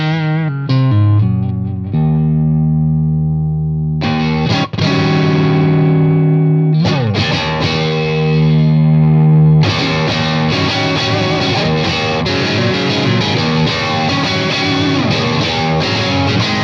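Electric guitar played through a Victory Sheriff 44 amplifier with an overdriven classic rock tone, ringing chords and sustained notes with pauses between phrases, loud and close, no talking.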